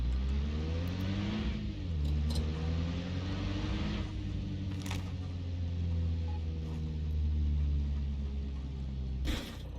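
GAZ military vehicle engine in the war game Arma Reforger, a steady droning rumble with rising and falling revs as it drives along, continuous and fairly close throughout.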